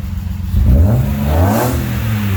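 A Daytona Violet E36 BMW M3 engine, after sitting unused for a year, revs up with a raspy, throaty exhaust note, rising and falling in pitch over a couple of seconds, close by.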